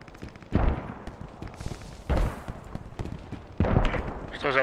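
Gunshots in the World War II shooter game Post Scriptum, three heavy booming reports spaced about 1.5 seconds apart, each with a rumbling tail, loud over quiet background.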